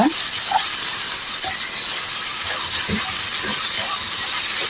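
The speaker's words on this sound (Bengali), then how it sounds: "এখন ভালো করে এই মশলার সঙ্গে আমি সবজিটি একটু কষিয়ে নিব" Chopped vegetables are stir-fried with spices in a hot pan, with spring onion greens and fish heads on the menu, producing a loud, continuous close sizzle and hiss with faint stirring knocks.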